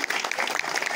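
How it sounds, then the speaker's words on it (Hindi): Applause from a village gathering in India, a brief burst of many hands clapping together, dense and steady, with a faint voice underneath. "एक बार ताली मार दो"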